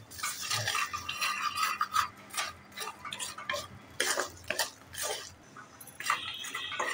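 Makhana roasting in a pan, stirred steadily with a spoon that scrapes and rattles the puffed seeds against the metal, a close, continuous dry clatter.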